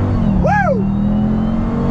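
A 2021 Dodge Durango Hellcat SUV launches hard using launch control, its engine rising in a loud, close rev and then settling into a steady heavy drone.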